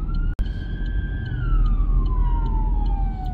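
A siren wails steadily then slowly falls in pitch as it passes, heard over rumbling traffic noise.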